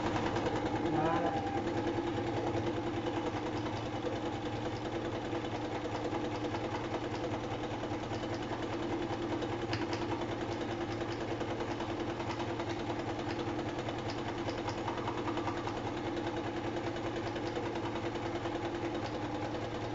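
A sewing machine stitching at a slow, even pace, a soft continuous mechanical hum and rapid rattle heard quietly throughout, with a person talking over it.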